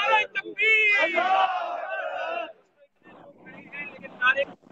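A crowd at a devotional gathering at Data Darbar in Lahore shouts back a religious slogan in unison, loud massed voices after a leader's call, with a short pause before a second call begins.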